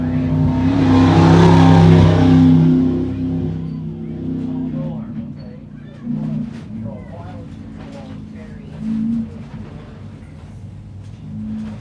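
A stock or comp race truck at the High Desert 100 in Powell, Wyoming roars loudly past the start-finish line, its engine swelling then fading, followed by a quieter rumbling drone with brief revving bumps.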